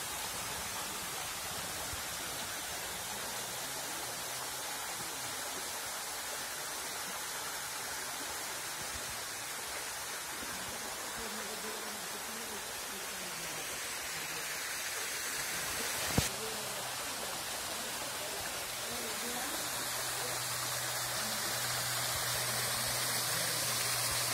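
A waterfall near a hillside temple roars in a steady, dense wash of rushing water, unbroken and fairly close throughout, with a single sharp knock partway through.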